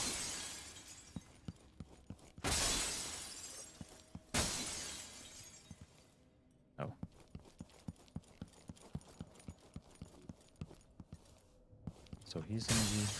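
Glass shattering in the video game Dishonored 2, two loud bursts of crashing shards, then a steady run of sharp clicking footsteps close by.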